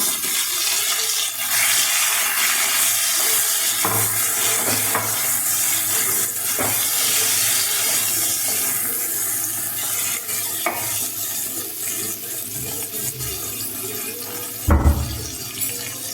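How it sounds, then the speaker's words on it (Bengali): Chunks of elephant foot yam go into a pan for a Bengali yam-and-prawn curry, giving a steady frying sizzle with stirring scrapes and a few louder clatters, and no one speaking. "এবার এর মধ্যে ওলটা দিয়ে দিলাম।"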